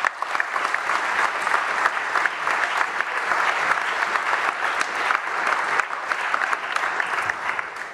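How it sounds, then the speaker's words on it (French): An audience claps steadily for several seconds, a dense, even round of applause at moderate volume. "Je voudrais qu'on les applaudisse parce qu'ils sont au premier rang."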